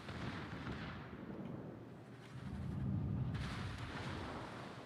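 Naval shell fire in a warships battle game: low booming rumble of distant gunfire and impacts, fairly quiet, swelling in the middle and continuing steadily without speech.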